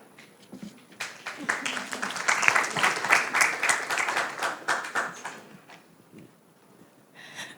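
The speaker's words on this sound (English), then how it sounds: "give a big applause for the last time" Audience applause at the close of a university summer-course panel session, a steady patter of many hands that builds and then thins out over several seconds, with some faint voices underneath.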